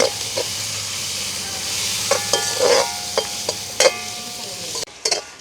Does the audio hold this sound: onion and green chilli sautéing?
yes